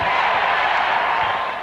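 A basketball arena crowd in the NBA 2K21 video game roars steadily at a free throw, a dense, broad wash of cheering with no clear voice on top.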